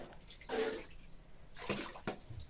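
Water splashes into a container from a village spring tap in the hills, coming in soft, uneven bursts of gushing and pouring, faint and close.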